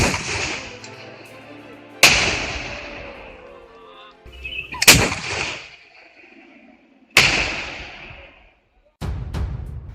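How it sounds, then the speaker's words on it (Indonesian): An M57 anti-tank weapon of the Indonesian military fires in several sharp, loud blasts spaced a few seconds apart, each trailing off into a ringing, rumbling decay. "M57 memang dirancang sebagai senjata anti-tank"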